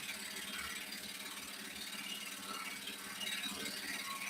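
A hand saw chatters steadily through an internal cut in a home workshop, giving a continuous raspy, rattling texture at moderate level with no voices.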